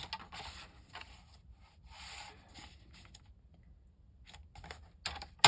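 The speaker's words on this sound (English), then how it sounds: "I'm going to use the craft cardstock, and we need to cut a piece that's 7 inches." Craft cardstock being cut to size for a Christmas tag, with soft scraping and rubbing strokes close by, quiet and uneven, in a series of short passes with brief pauses.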